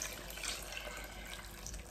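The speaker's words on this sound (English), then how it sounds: "I am going to be pouring 1 quart of water," Water pours steadily onto a Jamaican hominy corn porridge mixture with grated coconut, a soft continuous splashing trickle heard up close with no talking.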